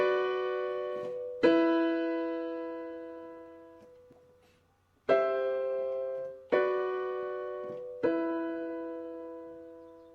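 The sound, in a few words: strummed guitar chords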